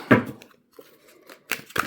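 Tarot cards are shuffled by hand in short, crisp riffling bursts with quiet gaps between, close and fairly soft.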